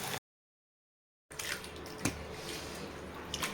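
Dried anchovies from Kasimedu are washed in water for the second or third time, with a sloshing, splashing rush after a brief silence and a few louder splashes over the steady churning.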